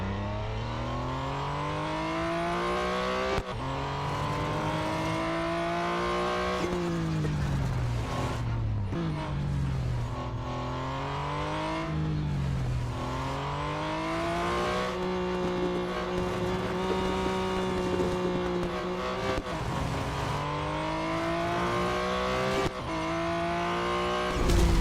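Race car engine in Real Racing 3, revving up and down continuously with pitch sweeping through gear changes and cornering, loud and close throughout with no talk.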